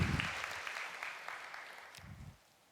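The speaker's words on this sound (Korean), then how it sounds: "우리 박수 부탁드리겠습니다" Quiet applause from an audience at a church family gathering, a soft steady patter of claps that fades out toward the end with a few low thumps.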